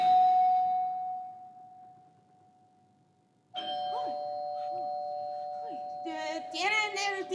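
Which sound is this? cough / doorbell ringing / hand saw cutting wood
doorbell ringing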